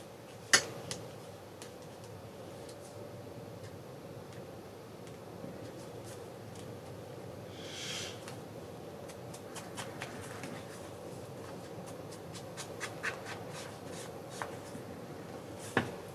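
A pen scratches and taps across paper while re-inking lines on a paper craft project, soft quick strokes and light ticks over a steady room hum, with one brief rustle midway.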